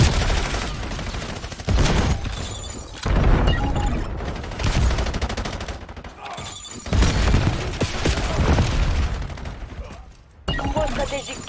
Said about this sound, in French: L'ennemi a tiré un missile de précision.